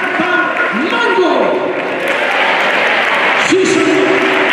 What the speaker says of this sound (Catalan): I un aplaudiment i un yeah per Mango.